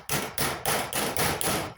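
Four sharp hammer blows on a plastic guttering corner, evenly spaced about half a second apart, each ringing briefly before the next, close and clear with no talk.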